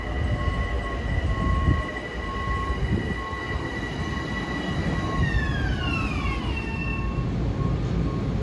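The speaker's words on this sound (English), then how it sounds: "Here comes 1706 New York Huntington at 223." A Long Island Rail Road M7 electric commuter train rolls steadily past on a triple-track line, a loud continuous rumble of wheels with a high electric whine that sweeps downward in pitch as it goes by.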